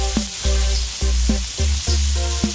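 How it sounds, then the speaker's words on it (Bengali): Small puti fish frying in a wok over a clay stove, with a steady close sizzle broken by several sharp bursts of spattering as the fish goes into the hot oil. "এখানে কড়াইয়ে মাছ দিচ্ছি"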